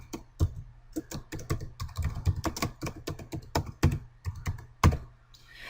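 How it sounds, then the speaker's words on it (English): Brisk keystrokes on a computer keyboard while a title is entered into a PowerPoint slide placeholder, irregular clicks and clacks with a few heavier thunks, close and clear with no talking. "So I simply click anywhere in the placeholder and then type my title."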